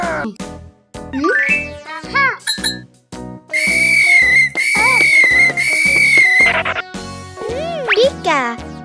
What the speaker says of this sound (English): just blow the whistle